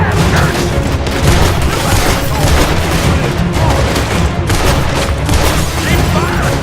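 Dense Red Dead Redemption shootout with continuous overlapping gunfire, rapid shots and booms at loud, close range without a break, with shouting voices in the mix.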